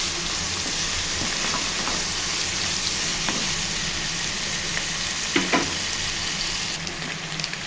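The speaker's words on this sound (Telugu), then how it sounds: "అవి ఫ్రై కూడా చేయాలి." Boiled eggs, scored with cuts, frying in oil, making a dense, steady sizzle throughout with a few faint clinks of a utensil against the pan near the end.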